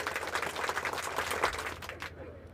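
An audience at a Hindi comedy poetry gathering claps in a dense, lively burst of applause that fades out at the end, with a little voice mixed in.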